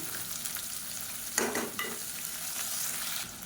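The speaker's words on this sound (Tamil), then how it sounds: "இப்போ இந்த வெங்காயம் வதங்கிட்டு இருக்கையிலே" Soft sizzling of long-sliced onions sautéing in a pan, with a brief scrape of stirring midway, low and steady with no talking.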